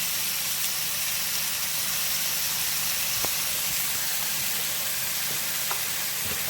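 Soy sauce sizzling in a hot pan with chicken and shrimp for a stir fry, a steady bright hiss and crackle, close and even, with a few faint clinks of a utensil.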